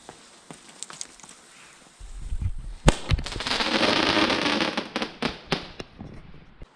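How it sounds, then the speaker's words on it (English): A tiny 4-gram Nova Star shot tube by Cosmic Fireworks fires with a sharp pop, then a loud crackling burst that sustains for a few seconds before scattered fading cracks, heard at close range on a bonfire night display. "Next up is this Nova Star little shot tube, tiny little 4-gram shot tube by Cosmic Fireworks."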